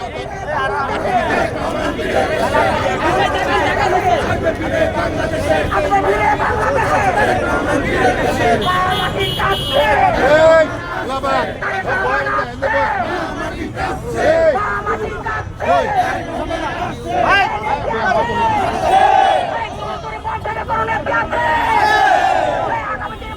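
A dense crowd at a political rally shouts slogans together in loud, rhythmic bursts, with overlapping voices and babble filling the whole stretch; individual people call out over the mass of sound.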